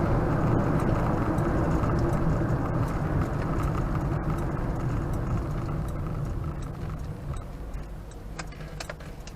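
A 1976 Alfasud Ti Series 1 cruising at about 40 mph, its engine and road noise forming a steady, loud low rumble heard from inside the car throughout, with faint ticking over the top and no talk.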